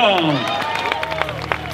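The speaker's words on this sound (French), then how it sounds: "Merci d'applaudir donc l'équipe de Quenin Quick Step" A crowd claps for the Quick Step cycling team at the Paris-Roubaix team presentation, a busy patter of hands under a loud announcer's voice and music.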